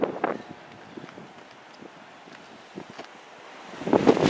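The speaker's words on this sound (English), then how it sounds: "where the wind's 80 miles an hour, blowing me off the road" Strong highway wind buffeting a 2016/2017 Jaguar XJL, heard as gusty rumbling wind noise that swells loudest at the start and end.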